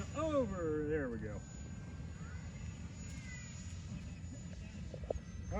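Phoenix 90mm Preceptor model jet accelerating in a climb and passing over, a steady distant whooshing drone under a voice that talks at the start, then continues alone.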